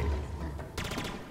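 Weapon fire in the Halo Infinite video game, a brief burst of rapid shots starting partway through, sounding close and fairly loud after a low rumble, with no talk over it.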